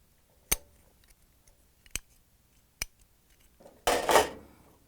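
Pliers squeeze the two small wings of an electrode clip on a GE range part, giving three sharp, quiet metallic clicks spaced apart, then a brief louder rattling scrape of metal.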